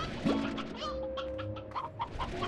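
A painted hen from the video game Slime Rancher clucks in a few short bursts over soft, glassy background game music, fairly close and clear, with no talking.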